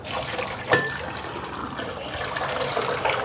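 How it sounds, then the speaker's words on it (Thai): Water poured into a pot of Thai chicken tom yum, a soft close trickle and splash that runs for a few seconds at low volume, with no voices. "ใส่น้ำเพิ่ม"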